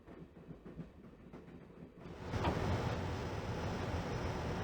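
Train running in the Broken Sword video game, set in Scotland: a quieter rumble swells abruptly into a loud, steady rolling roar midway, with no voices.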